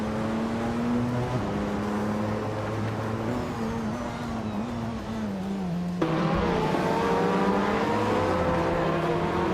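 Race car engine of a 2017 Delara P217 prototype in an LMP2 class racing video game, a steady high droning whine that shifts pitch with gear changes, close and continuous throughout.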